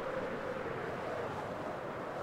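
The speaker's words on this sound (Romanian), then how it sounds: "Ia uite cum se aude vântul." Wind blowing in Minecraft, a steady low whooshing rush that stays even and moderately quiet throughout, heard alone without talk.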